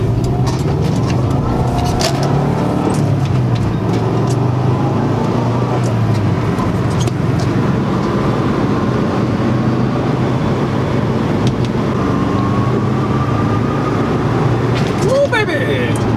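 A Subaru Forester XT's turbocharged engine pulls hard under acceleration, giving a loud, continuous drone with rising whine and road noise, while a person talks over it.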